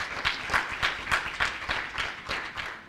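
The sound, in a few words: audience applause at a symposium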